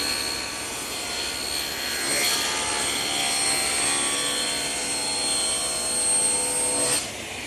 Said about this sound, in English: now I'm going to take it over to my table saw and rip it to 18 inches